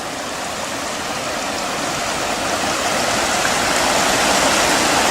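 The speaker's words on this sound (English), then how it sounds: "this is the Lagon River and the waterfall just" A waterfall on the Lagan River at the edge of the town park in Dromore, County Down, gives a steady, dense rush of falling water that holds constant and swells slightly louder toward the end, with no voices.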